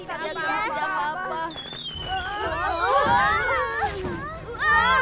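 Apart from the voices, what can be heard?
fireworks exploding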